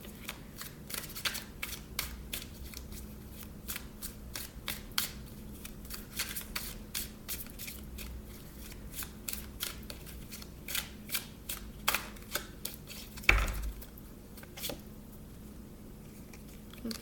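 Soft, repeated tarot card shuffling with irregular riffling taps over a quiet background, and one sharper knock near the end.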